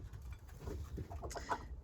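Ex-laying hens in a small pen give soft, faint clucks and short murmuring calls, spaced irregularly and heard close up in a quiet outdoor setting.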